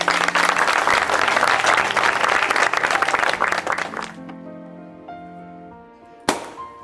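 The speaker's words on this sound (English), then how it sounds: "il faut applaudir à Pitman" A group claps for a volunteer at a hospital gathering in Haiti, lively crackling applause for about four seconds that stops abruptly. Quiet tonal sounds follow, then a single sharp knock.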